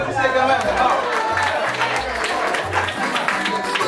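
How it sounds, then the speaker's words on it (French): An audience applauds a contestant at a Haitian website launch ceremony with a quiz contest. Scattered clapping mixes with crowd chatter, and voices talk over it throughout. "Allez-y, applaudissez quand même."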